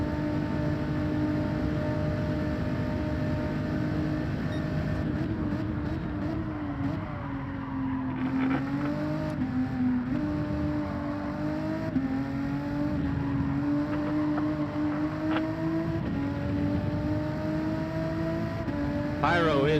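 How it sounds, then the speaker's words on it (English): A race car engine in Gran Turismo 7 drones loudly and continuously, its pitch dipping and climbing through gear changes, with a voice talking over it. "This car is loud."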